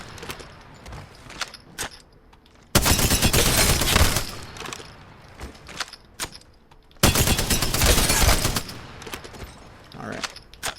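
Shooting video game warmup: two long bursts of rapid automatic gunfire, each lasting about four seconds, loud and dense, separated by quieter stretches of scattered shots and footsteps.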